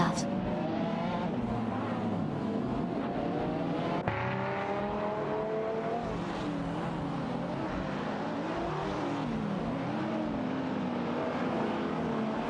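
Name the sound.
Mosler MT900 and Lamborghini Murcielago SV race cars in a racing video game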